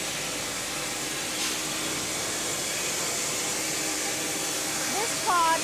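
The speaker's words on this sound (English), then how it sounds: "Sizing machine." The sizing machine of an 8mm ERW tube mill runs as a steady, loud industrial hiss and whir that goes on without a break, with a few brief squeaks near the end.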